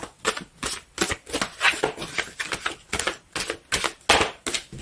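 Tarot cards being shuffled and drawn close up, a rapid series of about a dozen crisp riffling bursts and flicks in an uneven rhythm, with no talking.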